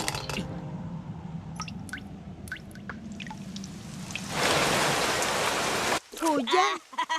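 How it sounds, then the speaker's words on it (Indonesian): Scattered drips and squishy wet sounds give way to a steady hiss of falling rain, followed by a brief voice near the end. "Hujan."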